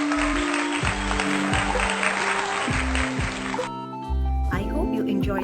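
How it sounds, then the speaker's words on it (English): Dense, steady clapping over cheerful music with a thumping beat, continuing for several seconds before the music shifts near the end. "put your hands up and clap for yourself"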